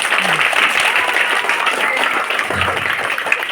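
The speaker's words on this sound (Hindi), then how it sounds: "ताली बजा दो लोग।" Audience applause during a primary school children's short play, loud, dense and continuous for the whole stretch, with faint voices beneath the clapping.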